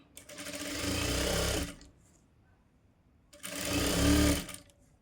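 Sewing machine stitching cutwork blouse fabric in two bursts of rapid whirring, about a second and a half each, separated by a quiet pause.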